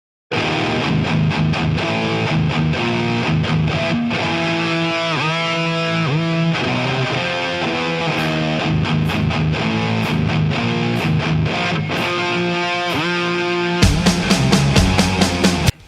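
A heavily distorted death metal guitar riff churns loud and continuously with chugging, rapid picked notes, then breaks into sharper, driving hits near the end.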